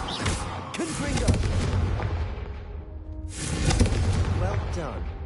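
Confringo fire spells blasting in a Hogwarts video game, two loud booming bursts with rumbling tails layered over music and talk.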